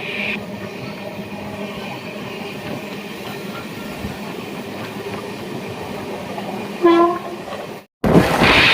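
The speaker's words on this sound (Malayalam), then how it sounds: "നല്ല ട്രാക്ക് സൗണ്ട് ഉണ്ട് ഇവിടെ ട്രാക്കിന് നല്ല സൗണ്ട് ഉണ്ട്" Continuous rumbling rattle of train wheels running over track, a steady clatter heard from on board a second-class carriage of the Ernakulam–Velankanni Express, with a brief horn-like tone and abrupt cut near the end.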